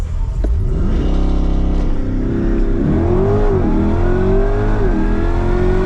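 A Chevrolet Corvette C8 E-Ray launches hard using launch control, the engine revving up and roaring through quick gear shifts, loud and close.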